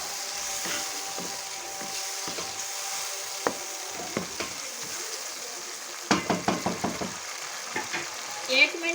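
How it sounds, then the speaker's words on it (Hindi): Onion and tomato sizzle in hot oil for a fish curry masala while being stirred, with sharp scraping knocks of a spoon against the pan cutting through the steady frying hiss. "ये प्याज और टमाटर डाल दूंगी मैं। इनका अच्छी तरह से हम मसाला भून लेंगे।"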